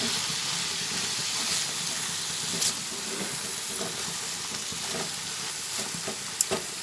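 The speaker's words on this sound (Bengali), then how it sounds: "ঝিঙে ঢেলে দিলাম এরপর একটু ভালোভাবে গ্যাসের ফ্লেমটা কমিয়ে দিয়ে নাড়াচাড়া করে নেব" Ridge gourd is stirred in a pan on a low gas flame, giving a continuous soft frying hiss with faint, scattered scraping and clicking from the stirring, close and even.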